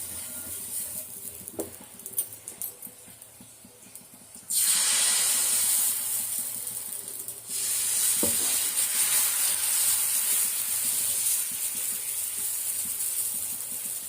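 Masala dosa batter poured onto a hot tawa, quiet scraping at first, then a sudden loud steady sizzle that briefly dips and returns, continuing close and strong with no speech.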